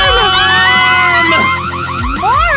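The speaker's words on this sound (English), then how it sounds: "Alarm!" Alarm blaring during a store robbery, rising and falling electronic tones sweeping loud and continuous over busy mixed sound throughout.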